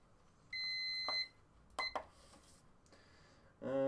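An exercise watch timer gives several electronic beeps, one sustained tone followed by shorter chirps and a final burst, faint and close in a quiet room.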